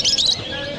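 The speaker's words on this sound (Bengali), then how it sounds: "পাখির কিচিরমিচির, বিড়ালের মেয় মেয় থেকে শুরু করে সব পোষা প্রাণীর ডাক একসাথে" A single short, bright bird chirp rings out near the start at a large pet bird market in Mirpur 1, Dhaka, then fades into low market background.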